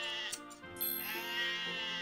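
Sheep bleat in Harvest Moon: Light of Hope, a close, loud, wavering farm-animal cry lasting about two seconds, with a second bleat overlapping partway through.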